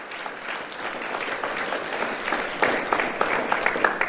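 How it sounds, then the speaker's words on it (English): An audience at an awards ceremony claps for a civilian support unit, a dense and steady round of applause that holds for several seconds at moderate distance. "Let's have a round of applause for our Civilian Support Unit."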